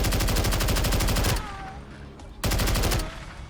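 An unsuppressed full-auto M14 EBR rifle fires incendiary rounds in Fallout 4, two loud rapid bursts of gunfire with a short gap between, punchy and close with a fading tail after each.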